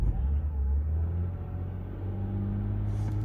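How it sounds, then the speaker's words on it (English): A BMW 328i engine revs hard with the accelerator floored, a loud, steady low rumble held close up for the whole stretch with no talking over it. "I'm going to rev it, you know,"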